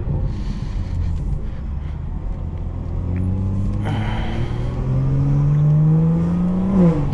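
Tuned BMW 440i engine pulling hard in second gear, a loud close rumble whose pitch climbs steadily as revs rise over several seconds, swelling toward the end without any talk.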